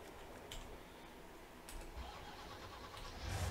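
In Landwirtschafts-Simulator 19, a truck's engine starts on the Nordfriesische Marsch farm map. It is faint at first over a low hiss, then rumbles louder toward the end.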